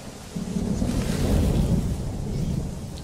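Thunder from an approaching storm over open African plains swells into a deep, sustained rumble over a soft rain-like hiss, fairly near and without voices.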